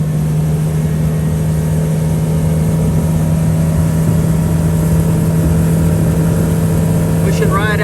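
A Honda BF90D outboard motor runs at speed near 5,000 RPM, a loud, constant drone with a steady tonal hum and wind and water rush throughout, as the boat travels with the wind.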